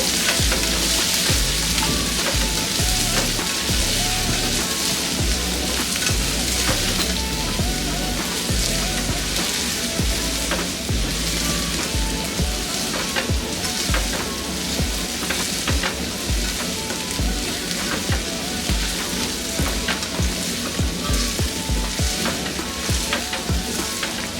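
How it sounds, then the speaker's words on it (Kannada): Onions frying in a pan until golden brown for masala avalakki, a continuous dense sizzle and crackle throughout, steady and close with occasional stirring scrapes, no talking. "ಈರುಳ್ಳಿ ಕೂಡ ಗೋಲ್ಡನ್ ಬ್ರೌನ್ ಆಗೋ ತನಕ ಇದನ್ನು ಇದೇ ರೀತಿಯೇ ಫ್ರೈ ಮಾಡ್ಕೋಬೇಕು"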